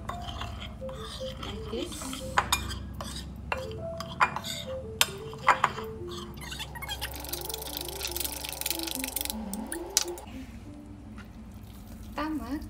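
Chicken being mixed with salt by hand in a bowl, giving soft wet squelching and scattered clinks against the dish, with a person talking over it.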